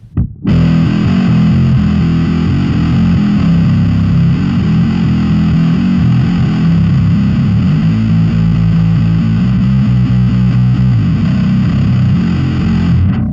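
Heavily distorted bass guitar through a Line 6 POD X3 Live on the Hazard Bass preset, thick and gritty, playing continuously for several seconds at close, loud level with no voices.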